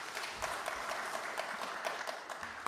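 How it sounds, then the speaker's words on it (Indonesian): Applause from a group gathered in a meeting room after a meeting ends, a steady continuous patter of many hands clapping at moderate volume, with no talking over it. "Tepuk tangan dulu buat kita semua."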